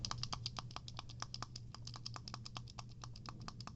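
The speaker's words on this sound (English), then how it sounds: "Pretty clicky face buttons, not too resistive." Face buttons on a Hyperkin Spiritbox Limited Edition controller clicked rapidly, a dense run of crisp light clicks up close over a faint low hum, with no voices.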